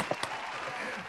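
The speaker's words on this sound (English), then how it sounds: "I'm going to give him a big round of applause." Brief audience applause welcoming a guest on a morning show, a short burst of claps and crowd noise with a couple of sharp hits near the start.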